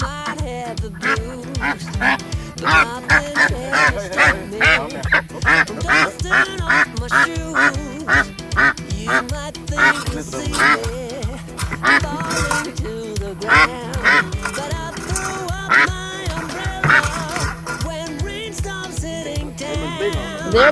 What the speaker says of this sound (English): I keep telling you how big the ducks gotten.